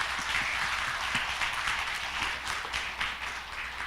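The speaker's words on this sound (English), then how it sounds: "Let's give our speakers a big applause." Audience clapping for speakers at a conference panel, a steady wash of many hands with a few sharper claps poking through, moderately loud and continuous.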